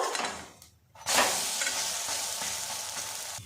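Steady crackling sizzle of mung dal lentil paste frying in a pan fills the clip after a brief lull near the start, loud and close with a continuous hiss.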